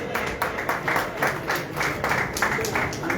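Applause from guests at a tournament prize distribution, several quick bursts of clapping from a crowd with a voice announcing over it.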